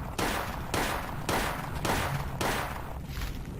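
Four heavy, evenly spaced shotgun blasts in the video game Silent Hill 1, each a loud booming burst with a short fading tail, firing at a steady rhythm with nothing else heard.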